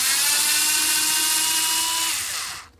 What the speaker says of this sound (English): I'm using a Torx bit to take out Allen screws.